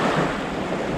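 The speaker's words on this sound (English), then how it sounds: "I see that line of waves are breaking on the sandbar." Ocean waves break on a sandbar at a beach, heard as a continuous loud wash of surf mixed with wind noise on the microphone, with no voices.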